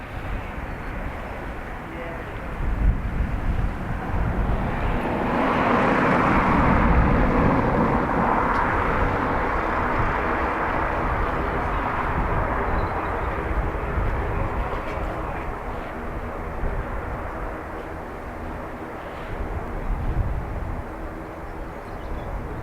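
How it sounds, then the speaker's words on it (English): A JetBlue Airbus A321neo airliner from JFK approaches Dublin Airport in a crosswind, its engine roar swelling to a broad peak midway and then fading, with people talking over it. "JetBlue A321 Neo from JFK next."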